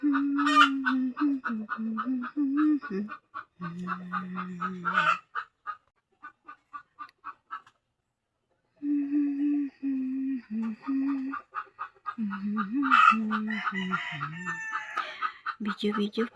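Chickens cluck and a rooster crows repeatedly nearby outdoors, loud and busy, with a short quiet pause before the calls resume.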